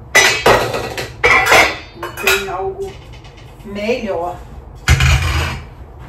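Dishes and cutlery clink and clatter as a dishwasher is unloaded, several sharp bursts of ceramic and metal knocks spread out over the span, with someone talking between them.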